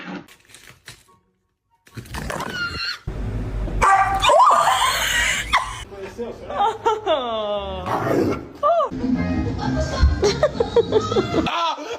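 A big dog approaches up close, giving short yips, whimpers and bark-like vocal bursts amid a person's excited talking and laughter.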